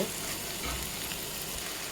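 Ingredients for fried rice fry in a pan with no water left, giving a steady close sizzle and crackle throughout with no talking.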